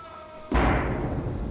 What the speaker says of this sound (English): once you start the rain, we get rain happening inside.